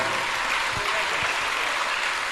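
Dense, steady applause from an assembled audience at a Jain religious discourse, a continuous wash of clapping that holds evenly, moderately loud, throughout the brief stretch.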